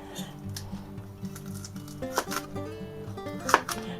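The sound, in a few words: knife chopping food on a cutting board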